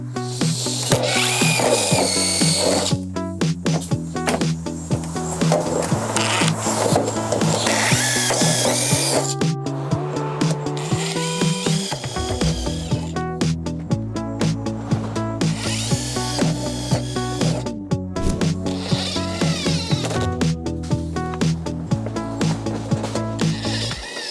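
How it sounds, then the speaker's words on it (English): Pre-drilling and driving screws through layered metal roof panels on a small bunkie: repeated bursts of a whining power drill that rises and falls in pitch, with short pauses between screws and a grinding bite as each one goes in. "One extra thing I like to do is pre-drill these and then put the screw in"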